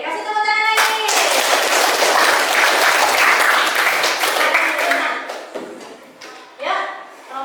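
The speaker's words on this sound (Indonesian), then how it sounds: "Oke, kasih tepuk tangan lagi" A classroom of students applauds a group with a burst of lively, dense clapping that fades out, followed by a few scattered claps and voices.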